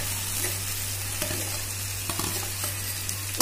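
Chopped carrots and ginger-garlic paste stir-frying in a hot pan, a steady close sizzle with occasional light scrapes and clicks, and no speech.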